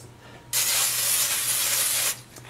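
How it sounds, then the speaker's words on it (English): A steady spray of cooking oil onto a baking pan hisses for about a second and a half, close and loud, then cuts off abruptly. "So I want to give this a quick spray."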